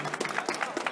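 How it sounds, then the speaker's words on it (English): An audience at a panel discussion applauds briefly, a dense patter of many hands clapping at moderate distance. "Please, audience, give them a round of applause for joining."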